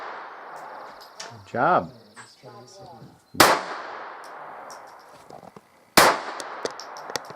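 Firearm gunshots at a shooting range: two sharp, loud reports a few seconds apart, each with a short ringing tail, with a person speaking briefly beforehand and faint handling noises in between.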